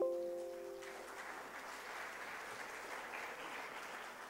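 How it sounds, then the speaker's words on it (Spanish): An audience applauds at a university machine-learning presentation, a steady wash of clapping that starts after a brief tonal note and carries on evenly at moderate loudness to the end. "Un fuerte aplauso para el profesor Luis Antonio."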